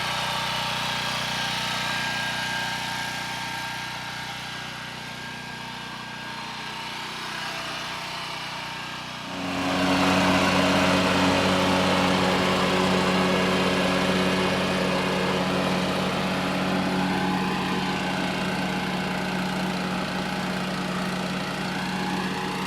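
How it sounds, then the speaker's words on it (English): A BCS 749 walk-behind tractor mows with a sulky attachment. Its engine drones steadily, then deepens and grows louder with a heavy low rumble as the cut begins, and holds that sustained throbbing roar to the end. "And now we're mowing with the sulky."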